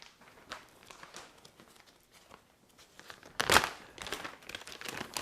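A gigantic plastic bag is handled for holding cooled corned beef brine, giving soft crinkles before one loud, sharp crumpling burst midway, then more rustling and handling noise close by.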